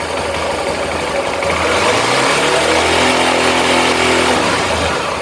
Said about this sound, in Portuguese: Vou acelerar agora a moto e vamos ver.